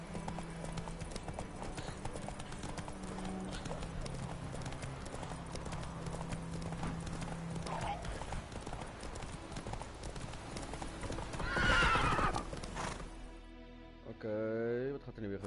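Roach, the horse in The Witcher 3, gallops with a rapid, continuous clip-clop of hooves under game music and ambience; a sharp whinny-like burst rises near the end, followed by a brief voice.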